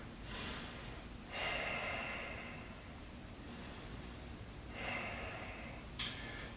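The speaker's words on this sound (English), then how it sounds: "Let's just breathe here." Slow, deep breaths during a yoga pose for athletes, each long inhale and exhale rising and falling softly in a quiet room with no talking.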